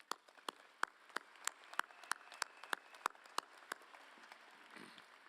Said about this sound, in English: I'd like to get a round of applause for our faculty.